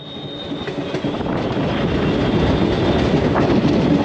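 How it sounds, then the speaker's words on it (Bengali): Steady, loud rumble and rattle of the Uttar Banga Express running on the line after pulling out of Dakshineswar, heard from inside the train, with a faint wheel whine; no one speaks. "এই উত্তরবঙ্গ ট্রেন কিন্তু বিধাননগর, দক্ষিণেশ্বর সব জায়গায় দাঁড়ায়"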